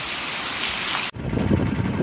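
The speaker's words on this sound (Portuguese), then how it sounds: "Agora tá caindo toró." A heavy downpour in the Bahia backlands makes a loud, steady wash of rain that shifts abruptly partway through to a deeper, rumbling roar.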